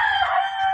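A chicken in the Minecraft video game gives a brief, loud, bright squawk, alone and close.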